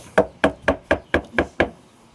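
Seven evenly spaced, sharp knocks as cloth-covered speaker grille panel is tapped into a bandpass horn subwoofer cabinet for a single 18-inch driver, close and distinct with a quiet background between hits.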